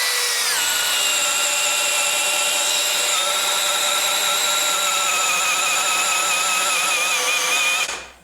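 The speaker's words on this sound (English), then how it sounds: "We're gonna test these with a 1-inch auger bit now, all the way down to the blue." Cordless drill, tested as Skil against Dewalt, boring a hole with a 1-inch auger bit: a loud, steady high motor whine that holds for about seven seconds after it spins up, then cuts off abruptly.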